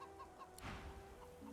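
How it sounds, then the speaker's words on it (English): Chickens cluck softly in the Divinity 2 Original Sin video game, with a few faint bok-like calls over low ambient game sound and no talk. "Why are those chickens not able to speak?"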